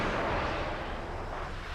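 A tank launches a missile in the console version of World of Tanks, set in the Cold War mode, a broad rushing roar of launch and blast that fades slowly over under two seconds.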